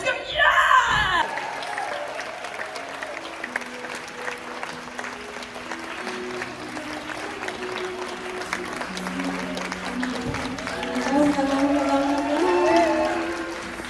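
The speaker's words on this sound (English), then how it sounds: "would you mind standing up and give me a round of applause?" A standing audience at a motivational talk breaks into sustained applause, with scattered whoops and cheers that swell louder toward the end.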